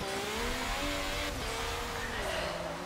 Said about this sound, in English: I am driving in the wet on Silverstone.